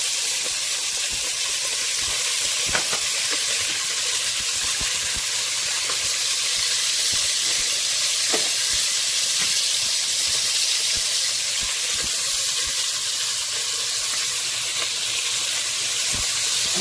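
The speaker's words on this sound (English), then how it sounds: "I'm going to mix this around so it can saute and cook down some." Onions with red and green peppers sauté in chicken grease, giving a loud, continuous hissing sizzle with scattered stirring clicks throughout and no talking.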